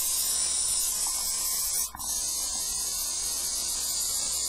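A steady, close airbrush hiss of clear liquid with no paint sprayed through during cleaning runs throughout, briefly cutting out for a moment before resuming at the same level.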